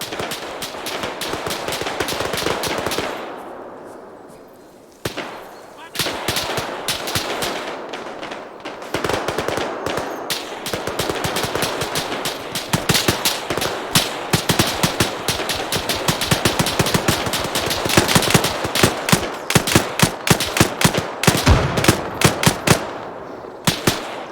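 Dense gunfire and rattling machine-gun bursts from ArmA 3 combat at a compound wall, near and loud, with a brief lull around five seconds and then sustained, increasingly sharp volleys to the end.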